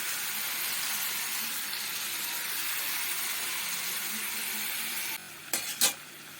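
Spice masala with jackfruit for a paneer dish frying in a pan over medium heat hisses steadily and softly for about five seconds, then gives way to a few sharp scraping stirs and clanks.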